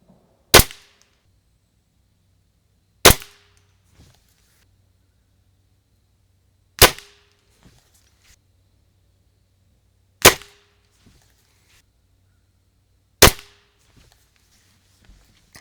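A budget spring air rifle fires five sharp, isolated shots at 25 yards, spaced about three seconds apart, each a crisp close crack with a short ringing tail in a quiet setting.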